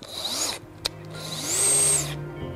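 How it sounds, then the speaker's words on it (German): A cordless drill whirs in two short close bursts, the second longer and rising in pitch, separated by a brief click and pause. "Der Akkuschrauber ist komplett in Ordnung"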